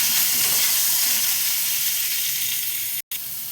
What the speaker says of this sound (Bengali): নুনটা দিয়ে এটাকে লাল লাল করে একটু ভেজে নেব